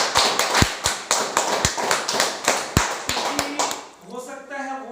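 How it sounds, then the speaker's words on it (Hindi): Applause from a business-meeting audience, a run of sharp, loud, evenly spaced claps close by, with voices rising at the end. "लोगों के माध्यम से जोरदार ताली चाहूंगा।"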